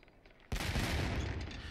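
A ship's broadside in the Sea Dogs naval video game fires after a brief quiet moment, a sudden loud blast of cannons rolling into a sustained, booming rumble that slowly fades.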